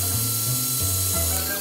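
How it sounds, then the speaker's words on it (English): A drill bores straight through a plastic pill bottle, its motor whining in a steady loud drone that steps in pitch a few times as the bit bites and breaks through. "Putting the drill bit right on the mark that I made and drill a hole straight through the bottle."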